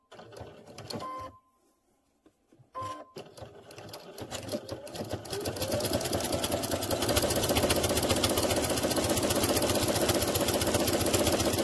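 A sewing machine stitches fabric strips onto batting for a scrappy quilt-as-you-go block, starting in short bursts with pauses, then running in a loud, fast, continuous mechanical whir close up.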